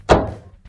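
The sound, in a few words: Maytag dryer door closing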